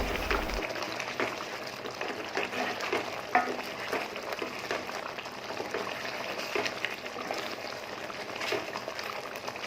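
Steady stirring of white chicken curry with sprinkled garam masala in a pot: soft scraping and a low, continuous sizzle throughout, with no voices.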